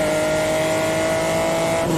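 A Honda NSX's naturally aspirated VTEC V6 sings at a high, steady rev inside the car, a loud, continuous engine tone with faint road noise around it.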